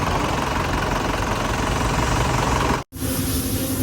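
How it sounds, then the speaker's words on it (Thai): An engine idles with a steady low rumble and faint knocking, briefly cut to silence near the end before the even running resumes. "เสียงเครื่องเงียบมากเลยนะ"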